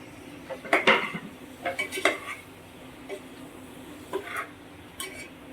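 Bottle gourd pieces are tossed with masala in a metal vessel, giving a handful of close clinks and scrapes of spoon on pot in short bursts separated by quiet pauses.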